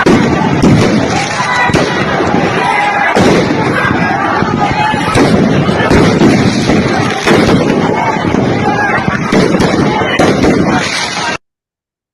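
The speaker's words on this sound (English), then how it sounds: "first of all, they use fireworks to try and disperse everybody" Fireworks fired to disperse protesters in Indonesia, a relentless loud barrage of bangs, pops and crackles that keeps going for the whole stretch, with crowd noise and voices mixed underneath.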